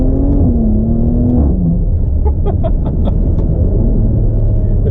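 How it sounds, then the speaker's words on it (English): A 2020 Maserati Levante S engine drones loudly and close, its pitch dropping through gear shifts, followed by a cluster of sharp crackles and pops. "The downshift is even better"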